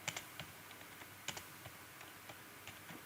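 Quiet, irregular key presses on a computer keyboard while JavaScript code is typed, soft close clicks in small bursts with brief pauses between.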